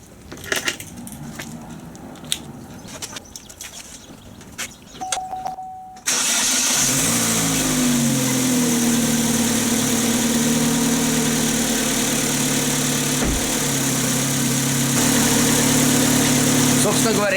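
Chevrolet Cruze 1.8 with its catalytic converter removed, starting after some rustling and clicks, then settling into a loud, steady idle that continues evenly to the end, heard close up.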